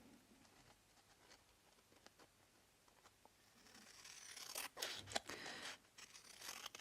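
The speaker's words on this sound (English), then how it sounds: "Let's snip these bits off." Scissors snipping off bits of scrapbook journaling craft material, a series of quiet, irregular close snips and rustles that grow busier and louder toward the end, with no talking.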